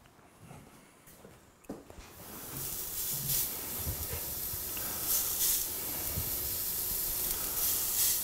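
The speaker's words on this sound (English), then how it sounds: "Now, it's time to grill some beef" Coriander-spiced beef skewers hiss and sizzle on a grill, the sizzle swelling after a couple of quiet seconds into a steady, fairly close crackle that holds to the end.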